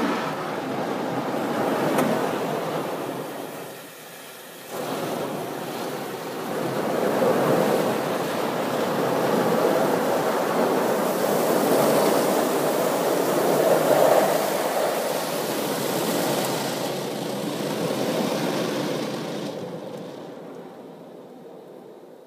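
An automatic car wash runs loud around a GTD heard from inside the car: a steady, dense rush of spraying water and brushes that dips briefly, swells again and fades near the end.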